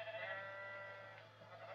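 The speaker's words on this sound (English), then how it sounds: "they're very annoying sheep" A Minecraft sheep gives a single drawn-out bleat, faint and nasal, lasting the whole short moment with nothing else around it.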